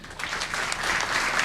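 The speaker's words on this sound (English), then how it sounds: "Round of applause for him." An audience at a culinary institute master class applauds, a dense continuous clapping that stays steady and fairly loud from start to end with no talking.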